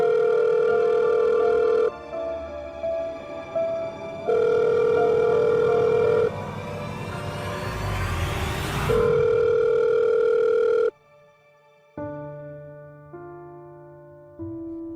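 A phone dials a contact, with a steady tone broken into beeps and a rising whoosh midway, then a repeating ringback pattern of short tones, clear and close with no talking.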